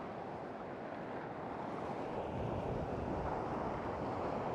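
Waves surge and break at the edge of a beach during a howling south wind, with a loud, continuous roar of surf and wind buffeting close to the microphone.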